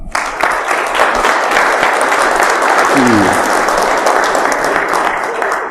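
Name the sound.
audience applause for a speaker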